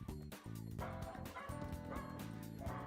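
A dog barks in quick repeated yips and bow-wows indoors, steady and fairly close, with soft background sound throughout.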